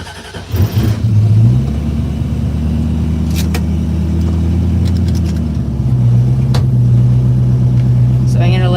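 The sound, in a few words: 1968 Mustang engine running, warming up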